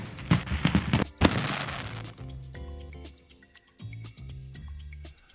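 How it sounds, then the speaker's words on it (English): Sharp crackling fireworks bursts from a phone's iMessage screen effect, loud and dense at first, then settling into a sequence of lighter pops and bright chiming tones. "Swipe to the left for more fireworks."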